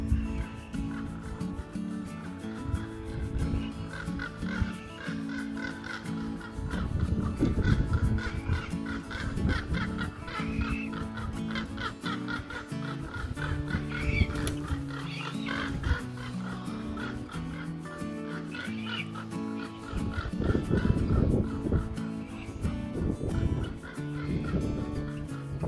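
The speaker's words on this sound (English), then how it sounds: "Did you notice that the crows were actually mobbing and ganging up on the red-tailed" Crows mob a red-tailed hawk overhead in an outdoor wildlife setting, giving harsh, overlapping caws that run steadily for the whole stretch, loud and dense with no talking.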